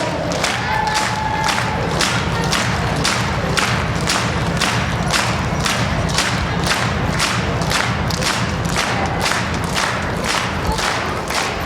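Rhythmic, loud applause from a concert audience at a children's celebration show, with steady synchronized clapping throughout and crowd noise behind it.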